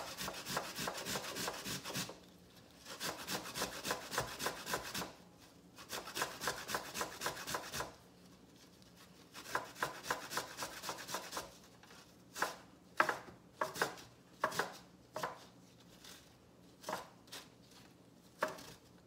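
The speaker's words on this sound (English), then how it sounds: "you're going to take your ginger and grate it" Fresh ginger is grated for kimchi in quick rasping strokes, bursts of rapid scraping separated by short pauses, then slower, more spaced single strokes near the end, close and fairly quiet with no talking.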